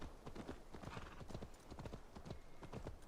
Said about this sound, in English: it's not that much of a grandeur to just ride a horse in a video game anymore.